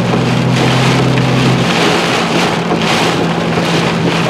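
Strong northerly storm gusts during a tornado-warned storm in Ohio, a loud, steady roar of wind buffeting the microphone with surging pulses over a low hum, heard continuously with no talking.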